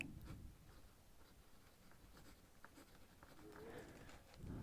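A dip pen nib writes in ink on paper, a close, quiet scratching that runs steadily throughout.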